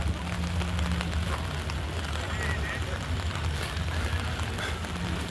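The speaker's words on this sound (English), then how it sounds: "You're getting rain noise on my umbrella now." Steady patter of rain falling on an umbrella, close and continuous, with a low hum and a bit of background noise underneath.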